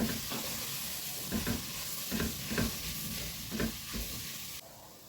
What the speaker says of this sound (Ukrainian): Перемішую і смажу приблизно іще до 5 хвилин.